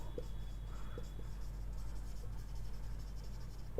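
Marker or chalk writing on a board during a biology lecture, a steady soft scratching with a few faint taps, heard close against a constant low room hum with no talk.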